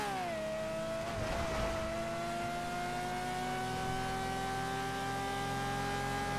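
A race car engine in a video game holds a steady, buzzing drone at high revs, rising slightly in pitch early on and then staying level and continuous throughout.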